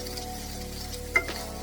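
Whole cloves fry in a pan for a South Indian mutton curry, a short, steady close sizzle with a single light clink of a utensil near the end.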